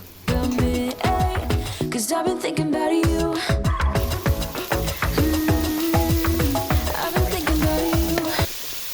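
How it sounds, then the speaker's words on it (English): Carrots cooking in a pan with salt and a Royco cube, a loud close sizzle under repeated stirring and scraping clatter of a utensil against the pan, with no voices. "I'm giving the carrots a minute or two for them to cook"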